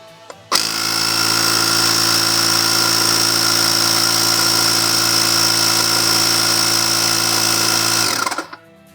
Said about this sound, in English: As soon as I press it, it will start pumping the air.